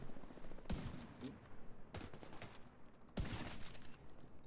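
Three sharp sniper rifle shots in The Division 2, evenly spaced about a second and a quarter apart, each a hard crack with a brief decaying tail over quiet background.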